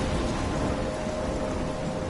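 Heavy rain and rolling thunder in Life Is Strange, a dense, even roar of downpour with a low rumble underneath and no voices.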